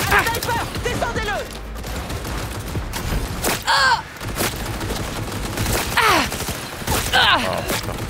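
Heavy gunfire in Cyberpunk 2077 Phantom Liberty, loud volleys and sharp blasts in uneven bursts amid game effects, with voices talking in between.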